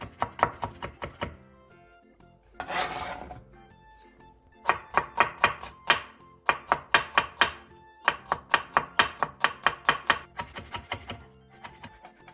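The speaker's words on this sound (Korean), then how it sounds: "당근 조금 도 얇게 채 썰고 대파 한 개는 쫑쫑 썰어주세요." A kitchen knife finely chops carrot into thin matchsticks and slices a green onion on a board, in quick rhythmic runs of crisp strikes broken by a short scraping pause. The sound is close and clear with no talking.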